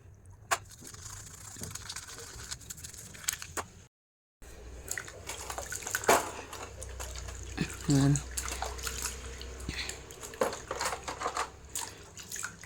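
A blackened brass oil lamp being washed with water, with running and splashing water, drips and small metallic knocks and clinks, plus a voice heard at moments.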